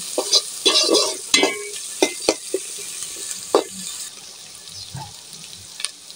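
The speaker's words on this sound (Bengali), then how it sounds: "আদা ভাজা করে নিচ্ছি" Ginger and onions fry in a pan for a spicy beef curry, giving a soft ongoing sizzle with sharp intermittent clacks and scrapes of a spatula stirring, loud at first and then quieter.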